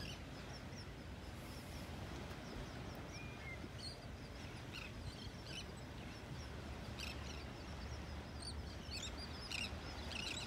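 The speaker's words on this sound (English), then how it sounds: "The sounds of the birds." Birds calling on a beach in North Naples, Florida on a morning walk, scattered faint chirps and calls over a steady bed of surf and wind noise.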